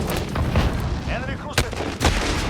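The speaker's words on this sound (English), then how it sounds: "Rocket away. Grenade out." Rocket launch and grenade blast in Call of Duty: Modern Warfare, heard as two sharp bursts near the end over a busy, noisy game mix with some voice-like sounds.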